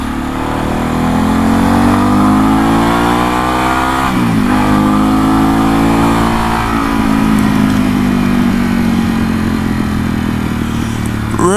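Harley-Davidson Revolution Max engine on a motorcycle, loud and close, revving hard through a long sustained pull with a brief dip and rise midway, then easing off near the end; no voices.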